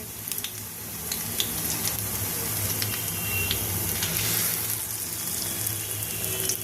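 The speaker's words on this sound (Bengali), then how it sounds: "তো এইভাবে ধীরে ধীরে আমি সব যে সর্ষে ফুলের পাকোড়াগুলোকে ভেজে নেব" Mustard flower pakoras frying in hot oil give a steady, close sizzle with faint crackles and pops over a continuous low bubbling hiss, no talking.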